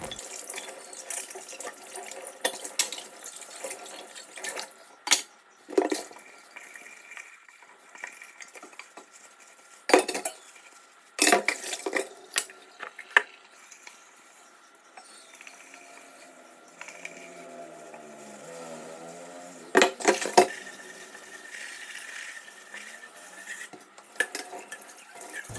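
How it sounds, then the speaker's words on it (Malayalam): Dishes washed at a kitchen sink under a running tap: water streams and splashes while plates, pots and cutlery clatter and clink in irregular bursts, close and fairly loud, with no talking. "അപ്പോൾ അത് ആ പാത്രങ്ങളൊക്കെ വേഗത്തിൽ അങ്ങ് കഴുകി വെക്കട്ടെ,"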